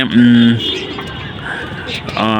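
Low, droning coos from a racing pigeon close by, one at the start and another at the end, with a quieter murmur in between.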